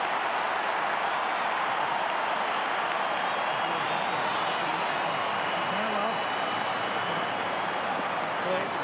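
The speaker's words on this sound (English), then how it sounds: "and the crowd roars." A large Australian football crowd at a Carlton versus St Kilda match roars loudly and continuously after a long kick at goal, a dense wall of cheering that stays constant from start to finish.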